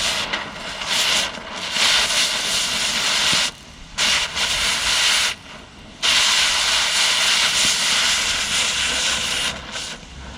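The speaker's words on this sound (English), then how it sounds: "especially with a little bit of wind that we have right now" Gusty outdoor wind roaring steadily and loudly, dropping out abruptly for brief moments before surging back, with no voices.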